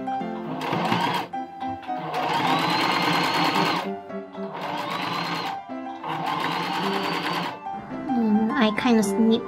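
Sewing machine stitching cotton bias tape along the side of a dress, several close, loud runs of rapid whirring separated by short pauses, with brief handling sounds at the end.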